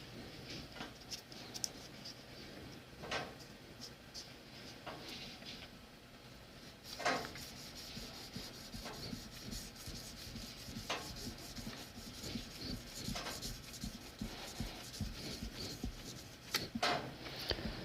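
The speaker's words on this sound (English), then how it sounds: "And move the sandpaper in this direction." Sandpaper rubbed back and forth over the nut of an Epiphone Les Paul 100 guitar, a quiet scratchy rasping in uneven strokes with occasional soft knocks, close-up and without talk.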